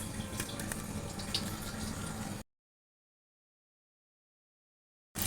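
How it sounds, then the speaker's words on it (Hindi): Chips fry in preheated oil in a kadhai with a loud, steady hissing sizzle that cuts to silence partway through before briefly returning. "तो मैंने कढ़ाई में ऑयल डाल दिया था और ये प्री हीट हो गया, तो अब मैं इसको फ्राई करते हैं।"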